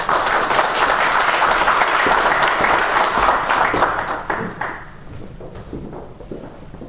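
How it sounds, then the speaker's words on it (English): A room full of people applauds the mayor of a city arriving for the State of the City address, steady dense clapping for about four seconds that then thins out and fades. "It's always reassuring to walk up to applause instead of boos"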